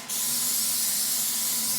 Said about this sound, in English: I'm going to go ahead and spray down my baking sheet.